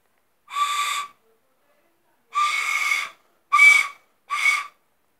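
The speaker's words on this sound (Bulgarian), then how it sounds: "Добре, ето свирката." A toy whistle blown four times in short bursts, two longer toots followed by two quicker ones, clear and close with silent gaps between.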